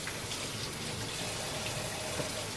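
Cold tap water runs steadily over frozen mussels in a kitchen, a continuous close hiss and splash of the stream with no pauses and no talking.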